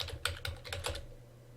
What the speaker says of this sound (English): So I'm just going to type in handout.